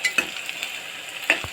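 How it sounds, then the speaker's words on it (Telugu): Ginger garlic paste frying and being stirred in a pan for mutton keema curry, a steady sizzle broken by a few sharp scrapes of the spoon against the metal, close and alone. "వేసుకున్న ఇంగ్రీడియంట్స్ ఒక మంచి కలర్ వచ్చే వరకు వేగించుకోవాలి"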